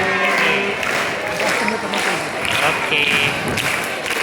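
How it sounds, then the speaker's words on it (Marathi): Audience clapping at a school birthday celebration for a teacher, a continuous dense patter of many hands filling the hall at steady loudness, with voices murmuring underneath throughout. "टाळ्या वाजवण्याचा कंटाळा करू नका"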